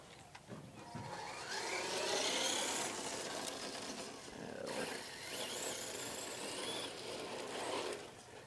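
An Arrma Mojave RC car driven at half throttle, heard as a steady raspy whine and rushing hiss that swells and eases over several seconds, fairly close, with no talk.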